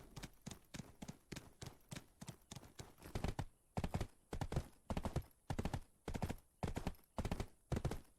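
A horse in the game Black Desert Online gallops with rhythmic, even hoofbeats in quick repeated clusters that grow steadier and slightly louder as the ride goes on, heard alone.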